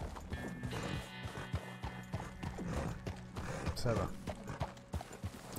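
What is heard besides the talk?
horse hooves clip-clopping on ice in the video game Red Dead Redemption 2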